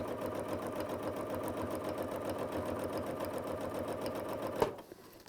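A sewing machine stitches a quilt along a template, stitching in the ditch with a fast, even needle rhythm close by, then stops abruptly near the end with a small clunk.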